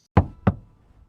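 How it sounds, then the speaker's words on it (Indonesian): An old man knocks twice on a car window in a film scene, two sharp, close raps about a third of a second apart, followed by quiet. "seorang laki-laki tua mengetuk jendela mobil Allen"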